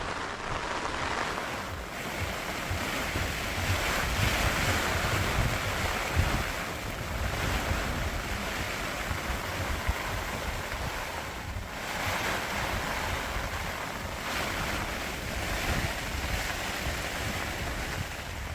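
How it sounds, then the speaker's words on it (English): Wind gusting across a lake while carp fishing, a steady, loud roar of rushing air buffeting the microphone for the whole stretch, with faint water wash underneath and no talking. "the wind is slowly changing direction into my shelter"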